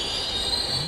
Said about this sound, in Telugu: ఆగు, చైన్ లాగేస్తా.